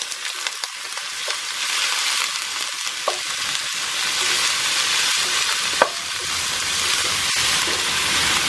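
Chicken sizzles steadily in a hot pan at home, a loud continuous frying hiss with occasional spatters and light stirring clinks, no voices over it.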